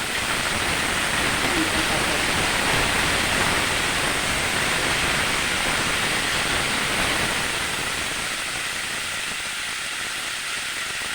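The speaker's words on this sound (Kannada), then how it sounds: "ಹೀರೆಕಾಯಿ ಸಿಪ್ಪೆ ಎಲ್ಲ ಕಟ್ ಮಾಡಿ ಇಟ್ಕೊಂಡಿದ್ವಲ್ಲ ಸ್ವಲ್ಪ ಅದನ್ನು ಹಾಕಿ ಚೆನ್ನಾಗಿ ಫ್ರೈ ಮಾಡಿ" Ridge gourd peels fry in a hot pan with a steady, dense sizzling hiss that holds loud and even throughout, easing only slightly toward the end.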